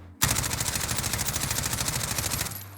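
An MP5 submachine gun in a video game fires a continuous full-auto burst at a wall, close and loud, with evenly spaced rapid shots for over two seconds before stopping abruptly.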